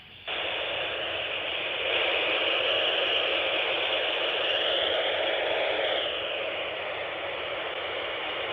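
ISS space station FM repeater received over an amateur radio satellite link, a steady wash of hiss and static that swells slightly midway, with no clear voice coming through.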